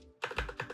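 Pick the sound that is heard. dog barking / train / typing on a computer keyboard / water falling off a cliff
typing on a computer keyboard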